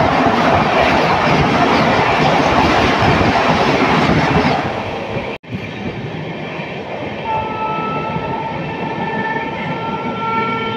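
Howrah–Gaya Vande Bharat Express passing close at speed, heard from aboard a train near Dankuni Junction: a loud roaring rush of wheels and wind that suddenly cuts off, leaving steady rolling rumble and faint horn-like tones.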